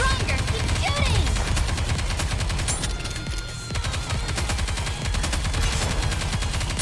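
Sustained automatic gunfire in the video game Nikke, a dense, loud, continuous stream of rapid shots that barely eases midway, with voices faintly under the din.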